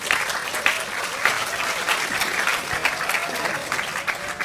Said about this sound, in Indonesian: Tepuk tangan untuk anak kita berdua.